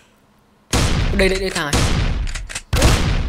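Gunfire from a short-range shotgun-style weapon in the video game Minecraft, several loud sharp blasts in quick bursts, with someone speaking briefly between the shots.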